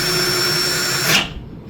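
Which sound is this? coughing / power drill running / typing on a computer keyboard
power drill running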